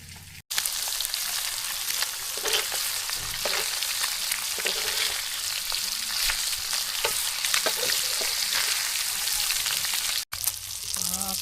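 Catla fish fries in oil on a flat pan over a wood-fired stove, giving a continuous, fairly soft sizzle with scattered crackles and pops over several seconds.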